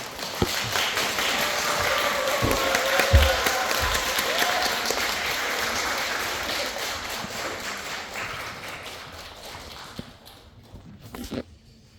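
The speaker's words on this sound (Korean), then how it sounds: "큰 박수로 부탁드립니다." A lecture audience gives sustained, dense applause to welcome a professor. It holds steady for about ten seconds and then tapers off into a few scattered claps and knocks.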